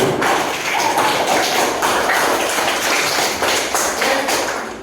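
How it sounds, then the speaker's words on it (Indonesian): Students in a classroom applauding everyone, a loud, close, continuous patter of many hands clapping at once that keeps going at an even level with no talking over it. "tepuk tangan untuk semua"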